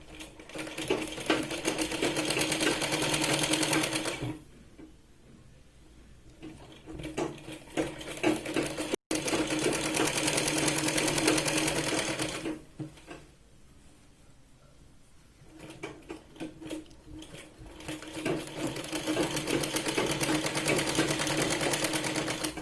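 Sewing machine stitching the sleeve onto a Punjabi dress, a fast steady mechanical whirr in long runs separated by quiet pauses, close and fairly loud with no talking over it.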